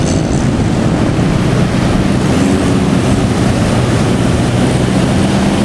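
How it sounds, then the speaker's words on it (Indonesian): Ocean waves on Parangtritis beach make a deep, continuous roar with a heavy low rumble, steady and close, with no voices. "Debur ombak yang tadi terdengar riang kini berubah jadi semacam nyanyian tidur, berulang, konsisten, dan dalam"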